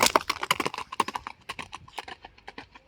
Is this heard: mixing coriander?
no